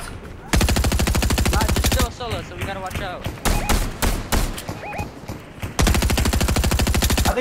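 Automatic weapons fire in Fortnite comes as two long, loud, rapid bursts, one near the start and one at the end, with players' voices talking in between.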